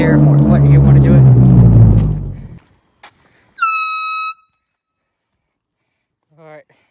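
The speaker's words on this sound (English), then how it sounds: "That's my air horn." Air horn blast, a short loud piercing honk of about a second, preceded by a low rumbling roar that cuts off and followed much later by a fainter second honk, with no talk over them.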